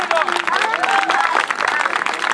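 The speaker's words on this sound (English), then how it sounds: "Let's have a warm applause for these two." Outdoor audience at a dragon boat festival claps steadily for two performers, a dense patter of applause running under someone speaking over a loudspeaker.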